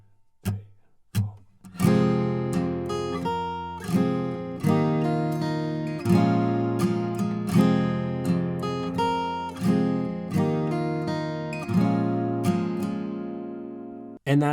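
A guitar plays the intro line of a song: a count-in of clicks, then a steady run of plucked chords and picked notes, each strike followed by a decaying ring, with no talking.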